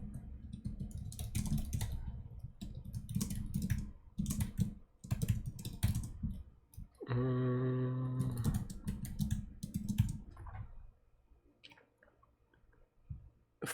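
Keyboard typing during a coding contest: dense, rapid clicking keystrokes in irregular bursts, fairly close, with a brief tonal beep partway through and quieter pauses near the end.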